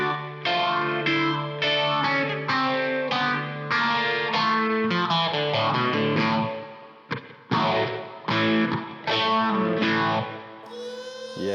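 Electric guitar plays the bridge section of a song with chorus and distortion effects, a steady sequence of chiming, overdriven chord and note phrases with a brief break near the end, loud and alone without talk.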